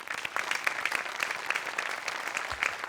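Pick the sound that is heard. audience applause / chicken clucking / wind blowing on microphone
audience applause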